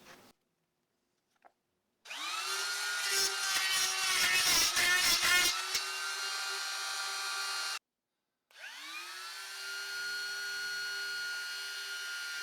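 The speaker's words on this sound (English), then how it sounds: "Then we'll come in and drill our two domino holes." A home-made domino joiner cuts domino holes into a piece of wood clamped to a bench, giving two loud, sustained bursts of whining, buzzing motor noise broken by a short silence and with no talk.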